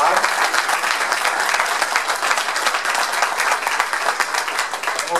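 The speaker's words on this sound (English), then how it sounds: "I want to give a big round of applause." Sustained, dense applause from the audience at a chamber of commerce breakfast, loud and even throughout, with a few voices mixed into the clapping.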